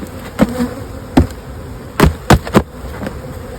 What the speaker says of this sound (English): Shake the bees out of here.